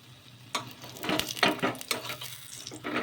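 Corn breakfast cake frying on its second side in a hot oiled pan, a steady close sizzle with crackling bursts and scraping pulses, no talk.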